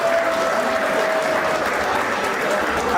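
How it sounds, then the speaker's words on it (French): Steady, dense applause from a gala audience fills the hall, loud and continuous with no break, a faint sustained tone running underneath. "Sous vos applaudissements s'il vous plaît."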